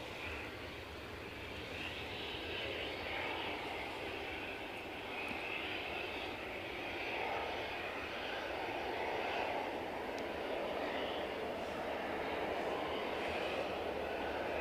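An airliner's engines roar steadily at Edinburgh Airport during Storm Amy, a broad sustained rumble and whoosh that swells gently without a break. No voices can be heard over it.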